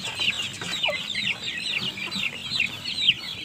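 Many free-range village chickens on a farm cluck and chatter together in a busy, continuous flock, fairly close, with scattered overlapping calls and no speech.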